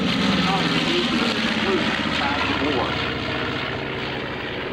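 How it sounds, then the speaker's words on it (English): The propeller engines of a B-25J Mitchell World War II medium bomber drone loudly at a 2004 World War II weekend air show, easing off slightly, while a voice speaks over the roar. "enjoy Panchito, the beautiful B-25 World War II medium bomber"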